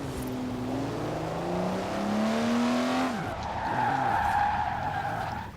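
Car tyres squeal and skid in Forza Horizon 4, a loud sustained screech that bends in pitch, then cuts to a higher whining squeal as the car slides.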